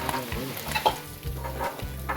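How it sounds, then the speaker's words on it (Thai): Fish frying in hot oil in a rural village kitchen, a close, crackling sizzle broken by bubbling pops and the scrape of stirring, with no speech over it. "ทอดปลาเลยเนี่ย"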